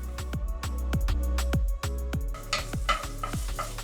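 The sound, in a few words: tomato paste and garlic sautéing in a pan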